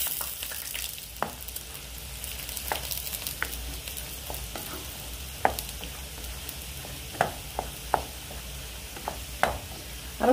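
Saffron sauce fries and sizzles in a pan with a steady hiss, broken by sharp scrapes and knocks of a spoon stirring at uneven intervals, close by and with no talk.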